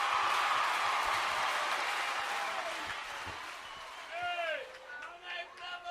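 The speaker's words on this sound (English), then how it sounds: "give a big round of applause to those 3 new candidates" Crowd applause at an outdoor United Workers' Party public meeting in Micoud South, broad clapping that fades over several seconds before a voice starts speaking.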